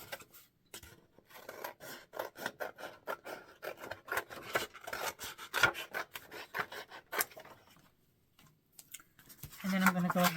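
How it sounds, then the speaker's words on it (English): Folded cardstock being cut with scissors, giving a close run of dry, rasping snips and paper rubbing at an uneven rhythm that fades to near silence before a short, brighter rustle at the end. "I'm going to take my cardstock and fold it in half, and then I'm going to go ahead and cut that"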